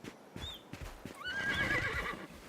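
A horse in the Starsand Island farming game gives a clear, mid-loud whinny lasting about a second, preceded by soft hoof clip-clops and light game ambience.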